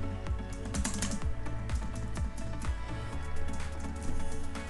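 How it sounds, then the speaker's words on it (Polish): Hard, forceful typing on a computer keyboard, a fast irregular stream of loud close clacks and thumps with occasional heavier keystrokes, continuing without pause and with no talk. "Wiesz, że jak tak walisz w klawiaturę, to to będzie słychać?"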